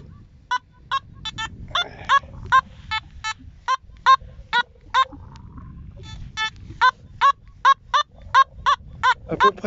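Repeated short electronic beeps in a steady pulsing pattern from a metal detector reading around 80, outdoors in cold weather, with light wind noise underneath.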